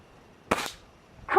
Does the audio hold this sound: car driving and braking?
no